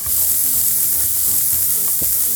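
Bulgogi-cut beef fries in an unoiled pan with a dense, steady sizzle, loud and close throughout, with a few faint stirring scrapes and no talking.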